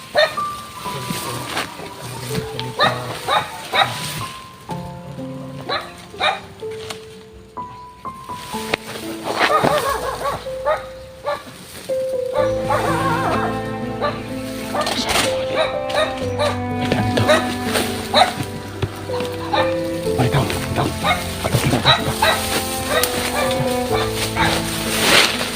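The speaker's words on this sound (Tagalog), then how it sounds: "May aso." Dog barking amid a busy mix of music and voices, the barks coming in short bursts scattered through the clip rather than standing alone.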